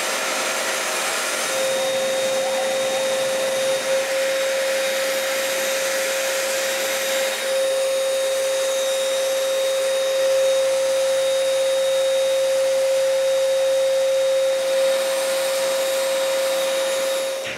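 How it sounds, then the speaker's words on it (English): A spray gun applies a second coat of varnish to wooden pantry pieces as a loud, continuous airy hiss with a steady high whistle, holding for a long stretch with slight changes in intensity and no talk. "Then I spray the second coat."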